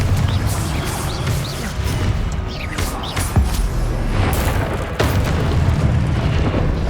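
Fire spell blasts during Hard-difficulty combat in an undercroft in Hogwarts Legacy, a dense run of booming explosions and crashing impacts with sharp bursts near 3.3 and 5 seconds over a steady low rumble.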